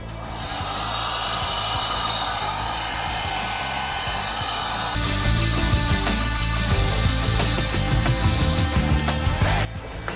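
A heat gun set to low heat blows steadily on PEX plastic water pipe to soften it, a continuous whooshing fan-and-heater drone that gets slightly louder partway through and stays constant, with no talking.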